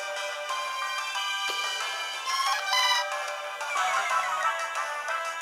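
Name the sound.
mobile phone ringtone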